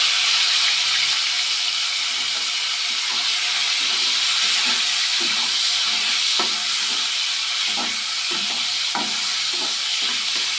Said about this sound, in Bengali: ওই তেলেতে এবারে মাছ কটা ভেজে নিচ্ছি